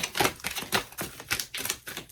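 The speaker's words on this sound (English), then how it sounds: "One more shuffle." Tarot cards are shuffled by hand in quick rhythmic riffles, a dense run of crisp rapid flutters and taps, close and fairly loud, with no talking.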